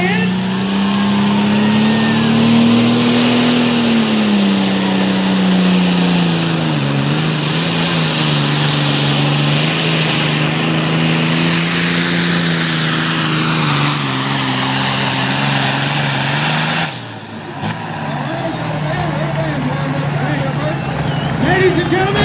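John Deere tractor engine at full roar during a full pull at a truck and tractor pull in Lumberton, NC, a loud sustained drone that wavers in pitch before cutting off abruptly near the end.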